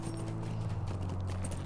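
Horse hooves clip-clopping in the online game Lord of the Rings Online, a steady close rhythm of hoofbeats over a constant low droning background with no talk.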